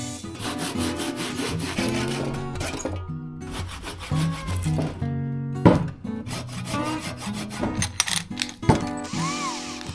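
A saw cuts triangles out of wooden boards with close, rhythmic rasping strokes and a few knocks of wood, no talk.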